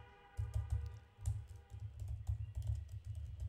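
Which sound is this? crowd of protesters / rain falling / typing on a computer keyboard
typing on a computer keyboard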